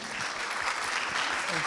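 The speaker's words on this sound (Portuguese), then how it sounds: "Palmas, por favor." Audience applause at a social media education panel event, a steady dense clatter of clapping hands filling the room, with a voice talking faintly underneath.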